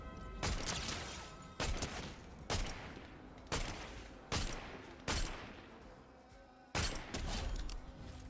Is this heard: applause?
no